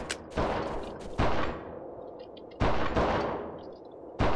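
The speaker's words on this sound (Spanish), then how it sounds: "Aquí se escuchan tiros." Sharp, loud gunshots from the first-person shooter video game XIII, four separate bursts with ringing decay between them, each shot followed by a fading tail.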